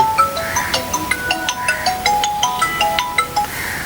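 A mobile phone ringtone rings on its own, a bright repeating electronic melody of short tonal notes in a steady rhythm, close and fairly loud, with no one talking.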